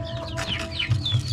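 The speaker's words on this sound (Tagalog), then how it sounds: "Nagpaparami kasi ako ng mga manok." Chickens cluck close by, a quick burst of overlapping clucks and short calls over a low steady background, loud and brief with no talking.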